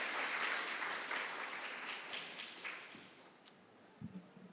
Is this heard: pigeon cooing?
no